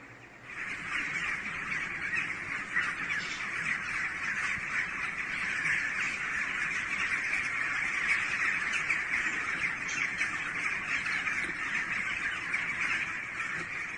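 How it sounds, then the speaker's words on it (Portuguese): A flock of birds in Turkey calls out in a frantic, continuous chatter of squawks and chirps that holds at a steady, fairly loud level throughout, with no voices. "Você vê os pássaros começam a entrar em"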